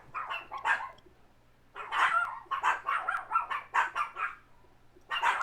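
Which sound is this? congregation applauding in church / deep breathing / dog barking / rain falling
dog barking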